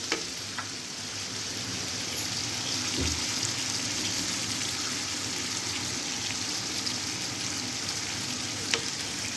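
Half a cup of water goes into a hot pan of chicken and carrots, setting off a loud, continuous sizzle and bubbling hiss that holds steady throughout.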